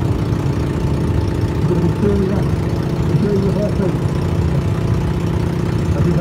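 A 1924 American Indian motorcycle engine runs steadily on a wall of death at a steam fair, a continuous mid-low drone with a rough, vibrating edge that rises slightly in places, heard under a loud crowd and announcer.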